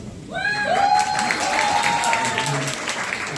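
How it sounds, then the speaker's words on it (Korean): A seated audience at a Korean lecture and concert gathering claps together in a sustained, even wash of applause, with a voice or tone briefly rising over it near the start. "박수로 맞아주시면 감사하겠습니다"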